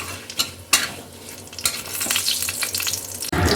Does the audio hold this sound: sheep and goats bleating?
no